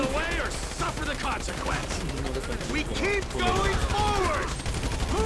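Rapid gunfire in the video game Grand Theft Auto 5, bursts of automatic shots crackling close and loud, with voices talking over the shooting.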